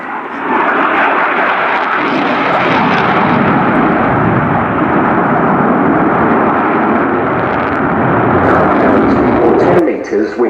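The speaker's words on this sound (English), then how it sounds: "the Lyulka, or now Saturn, AL-31F turbofan engines are certainly providing thunderous performance" A fast jet with Lyulka/Saturn AL-31F turbofan engines roaring past at an air show at Fairford, a loud, broad thunderous rumble sustained for about ten seconds before dropping away, with a commentator's voice over it.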